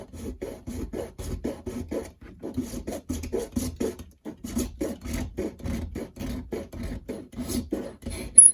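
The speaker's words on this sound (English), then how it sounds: "now I can sand that down" Steady back-and-forth rasping of sandpaper on the nose of a Grumman F11F Tiger scale model. The strokes are close and rhythmic, run continuously with one brief pause, and no one talks.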